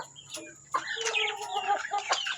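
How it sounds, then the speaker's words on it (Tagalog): Close, fairly loud chicken clucking, with a series of short throaty clucks and squawks in quick irregular succession. "Ito, malaking ibon."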